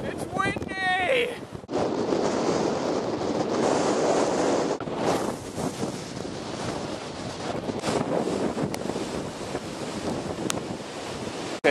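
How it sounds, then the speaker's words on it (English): Strong wind and rain roar continuously into the microphone while cycling, rumbling and buffeting close up, with surf-like wash beneath and a brief high chirp at the start. "I'm getting totally battered by the wind and the rain"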